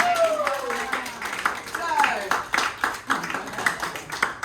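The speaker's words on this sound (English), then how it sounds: "a clap for Sudarshanji for having me" An audience at a yoga ashram gathering gives scattered, rhythmic clapping, moderately quiet with distinct individual claps alongside overlapping speech.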